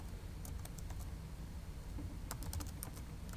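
Someone types a command on a computer keyboard in two short bursts of quiet keystrokes separated by a pause, close by and with no voices.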